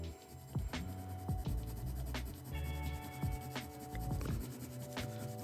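A Mars Lumograph pencil scratches across paper in short strokes and scribbles, close and fairly quiet, with a few light taps between strokes.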